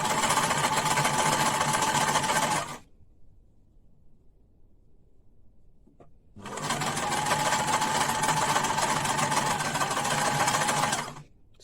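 A Japan-made sewing machine stitches a microfibre towel scrunchie in two long, loud, close runs of rapid whirring, separated by a quiet pause of a few seconds.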